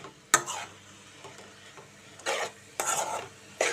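Amaranth leaves (thotakura) cooking down with garlic in a pan, a quiet low simmer broken by a sharp clack and then bursts of scraping as a spatula stirs the greens, close and without speech.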